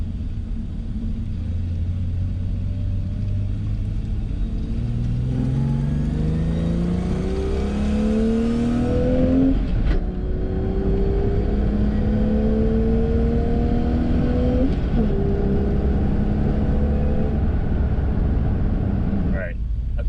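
A Lexus IS300 with a swapped-in W58 manual gearbox accelerating through the gears, engine rising in pitch with each pull before shifting, steady and close with road rumble throughout.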